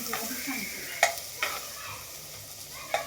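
Onion and garlic frying in a pan for homemade pasta, a close hiss of sizzling oil broken by a few sharp scrapes and clicks of a spatula against the pan, no voices.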